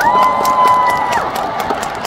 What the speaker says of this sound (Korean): 박수 보내세요.